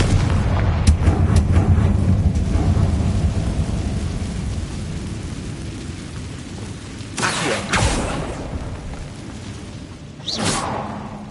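In Hogwarts Legacy, a fire-blast spell detonates with a heavy rumbling explosion, followed later by two more sharp whooshing bursts over a continuous low roar.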